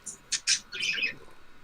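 Pet birds give a few sharp chirps and then a short burst of squawking calls, fairly close and fairly quiet, with no voices.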